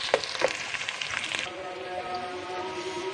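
Okra (bhindi) frying in a pan, a soft continuous sizzle with a few crackles and stirring scrapes early on, then settling into a steadier, quieter hiss.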